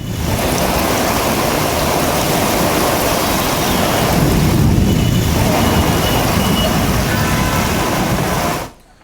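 Broad, steady rush of floodwater pouring into and churning through a flooded underpass in Panchkula, loud and continuous with no voices, cutting off abruptly near the end.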